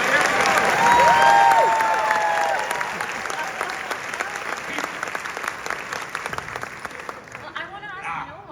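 Applause from a festival audience at a New York Film Festival Q&A. It starts loud, with a voice briefly heard near the start, then thins into scattered clapping over several seconds and fades toward the end.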